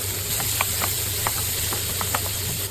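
Onion, green chilli, tomato and coconut pieces sautéing in hot oil, a steady close hiss with scattered small pops and spatula taps, no voices.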